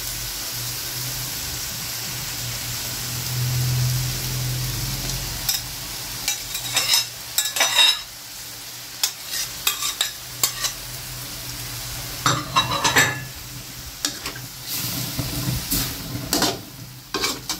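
Glass noodles with pork stir-frying in a pan, a continuous loud sizzle broken by repeated scraping and clattering strokes of a spatula, growing busier toward the end.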